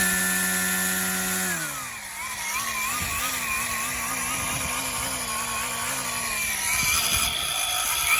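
A RYOBI 40V HP carbon fiber string trimmer with blower attachment revving under trigger control, its loud close motor whine dropping from a high pitch to a lower idle, then wavering and climbing again near the end.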